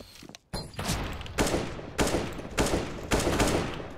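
Rapid bursts of gunfire in Counter-Strike: Global Offensive, five loud, sharp volleys spaced roughly half a second apart after a brief quiet start, with no talking over them.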